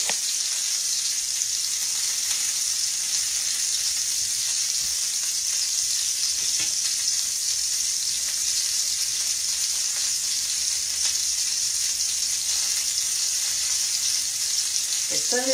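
Hamburger steak and onion sizzle and fry in a skillet, a steady, close, continuous crackle throughout with occasional faint clicks and no talk.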